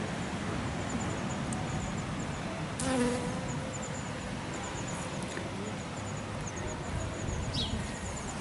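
A bee buzzes while gathering pollen among flowers outdoors, a steady low insect drone running through the whole stretch with a slightly louder pass near the middle, alone with no voices.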